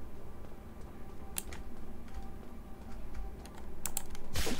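Computer keyboard keys pressed while playing a zombie video game, a run of light clicks with a few sharper taps over steady low background hum, no talk.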